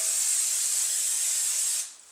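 Cooking spray hisses steadily from an aerosol can into bread baking pans, one continuous close spray lasting nearly two seconds before cutting off abruptly.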